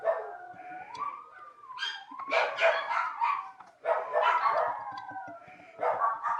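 Several dogs bark and howl together at close range. Drawn-out howls slide up and down in pitch, mixed with sharp barks and whimpers in uneven bursts, and no people can be heard.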